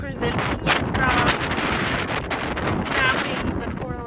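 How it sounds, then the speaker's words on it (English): Strong wind gusts on a farm buffet the microphone with a loud continuous roar and rumble, while a person talks over it. "as you can see, it's so windy, it's still getting wind"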